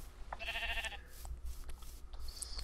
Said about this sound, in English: I think there's a naked sheep over here.